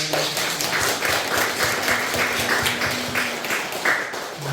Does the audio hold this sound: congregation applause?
yes